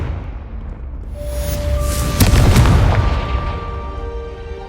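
A Confringo spell explodes in Hogwarts Legacy, a deep booming blast that swells to a loud peak midway and then rumbles and fades slowly, with no talking over it.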